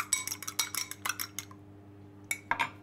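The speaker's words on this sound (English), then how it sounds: "So we're just going to crack an egg in and whisk it up." Egg whisked in a bowl in a kitchen: quick clinking, tapping strokes of a whisk against the bowl in two short bursts, close and fairly soft over a faint steady hum.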